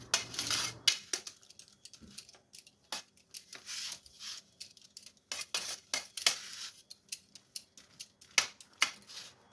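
A fork pricks pizza dough, making a series of sharp, irregular metallic taps and clicks close up with short quiet gaps between them and no speech.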